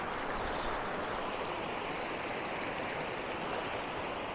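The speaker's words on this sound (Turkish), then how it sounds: "Dere böyle aşağıya doğru akıyor gidiyor." A rocky creek flows steadily downhill over large boulders, a constant broadband rushing close to the microphone, moderately quiet and unbroken, with no voices.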